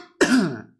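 A single throaty cough or throat clearing, close and fairly loud, with a brief burst followed by a fading rasp, alone with no talk.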